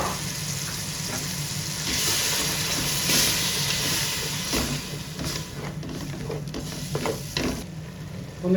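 Ground masala paste for chicken biryani fries in a hot pan, hissing and sizzling up close while a spoon stirs and scrapes it in a run of irregular knocks and scuffs.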